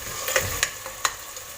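Ingredients, including a large helping of chopped parsley, fry together in a pan for fish rice, giving a soft steady sizzle broken by a few sharp clinks and scrapes of stirring.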